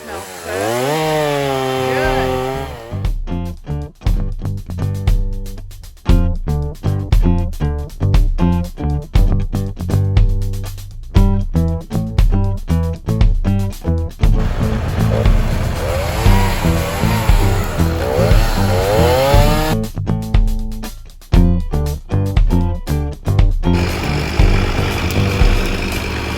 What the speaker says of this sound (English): He's got a 20-inch bar instead of an 18-inch bar on his chainsaw.